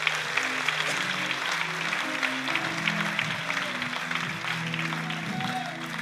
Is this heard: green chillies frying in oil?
no